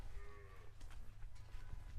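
A Banni-breed buffalo on a farm in Vav, Banaskantha gives a short, low moo at the start, fairly faint against quiet farmyard background noise.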